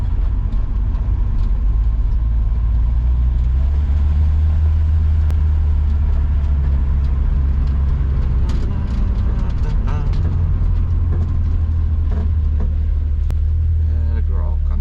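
An old motorcycle, freshly fitted with new brakes and a tune-up, runs and rides with a steady loud low engine rumble and road noise throughout, occasional rattles, and a voice speaking faintly over it.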